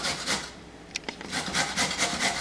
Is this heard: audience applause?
no